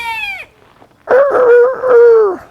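A chicken's drawn-out, wavering call rings out close by, following a shorter harmonic cry, with brief quiet between.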